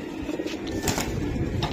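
Giribaz racing pigeons in a loft cooing close by, several overlapping throaty coos in quick succession over a steady background, with no talking.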